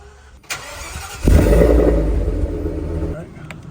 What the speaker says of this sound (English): see if we can turn the engine on and see if that does anything